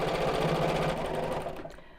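A Janome sewing machine stitches fabric for a biscornu pouch in a steady, fast whirring run that holds for most of the moment, then slows and trails off near the end; no talking.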